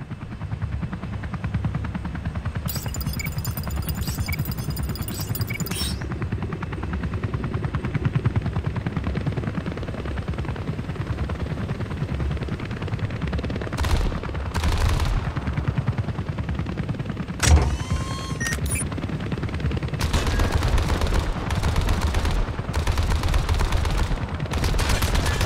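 Comanche helicopter in the Comanche video game firing its gun in short bursts over a steady rotor hum, with rapid clattering volleys and a few sharp impacts.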